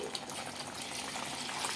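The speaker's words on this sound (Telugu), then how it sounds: "వెంటనే వాటర్ అయితే వేసేసుకుంటున్నానండి" A steady stream of about a glass of water pours into a pan of chicken curry, a continuous splashing rush with no talking.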